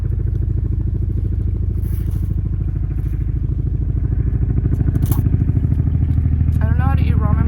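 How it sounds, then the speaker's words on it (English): Helicopter flying low over a campsite at Cedar Hill State Park, a loud, steady rhythmic rotor thumping that stays close throughout, with faint voices underneath. "Wow, that is a helicopter."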